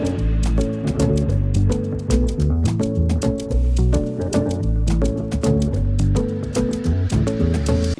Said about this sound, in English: Let's try and see if we can bring in some rolls to just fit into that part of the section to introduce us to the verse.